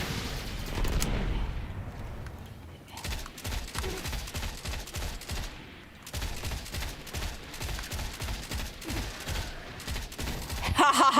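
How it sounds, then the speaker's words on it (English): Cluster bombs explode in the video game Destiny: a dense, continuous crackle of rapid blasts and gunfire-like pops, loud and busy throughout, with a brief lull near the middle and no talk. "See the cluster bombs."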